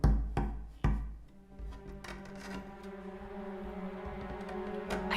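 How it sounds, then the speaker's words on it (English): Two sharp knocks ring out from an attic, followed by faint scattered taps and a quiet room hum, with no one speaking. "I kept hearing a knocking."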